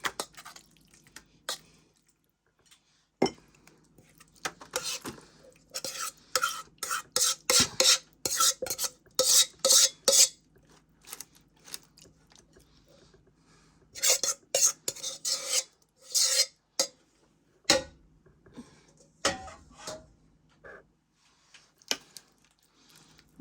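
Repeated scraping and tapping of a utensil against metal pans as food is spread into them, coming in bursts with short pauses, fairly close and moderately loud, with no talking.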